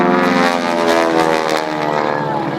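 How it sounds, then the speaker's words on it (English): Aerobatic airplane at an air show sweeping through a wide turn, its propeller engine droning loudly and steadily with a shifting pitch as it banks, fairly close and without talk. "He takes the airplane once again in that wide, sweeping turn."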